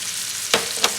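Onions frying in a pot on the stove for a seafood crab boil, a steady close hiss with two brief stirring scrapes near the end.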